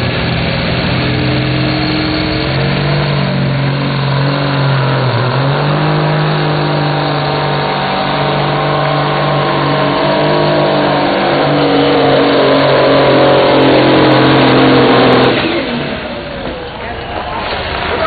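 A 1982 classic Peterbilt pulling truck with turbochargers revs hard at a county fairgrounds truck pull, its loud sustained engine roar dipping and then climbing in pitch before easing off near the end.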